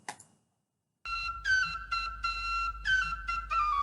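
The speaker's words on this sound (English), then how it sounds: "Whistle." Clear, close whistling plays a short wavering melody of sustained tones after a brief moment of silence.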